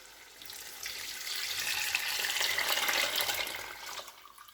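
Mutton yakhni stock pours onto rice for mutton pulao, a steady close splashing gush that swells, holds for a few seconds, then tapers off, with no talking.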